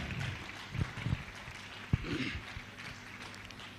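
An audience at an indoor community event in Korba claps in a soft, distant wash of applause, fairly faint and even, with a few louder thumps standing out.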